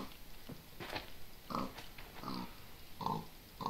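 Several soft pig grunts and oinks from the Minecraft video game come at irregular moments, faint over a hissy background.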